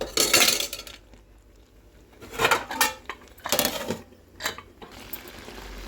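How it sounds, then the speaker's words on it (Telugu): A lid is set onto a cooking pot of khichdi, with a burst of metallic clatter and several clinks of metal against metal at moderate loudness, separated by quiet gaps. "మూత అయితే పెట్టుకుందాం, మగ్గుతుంది కాస్త."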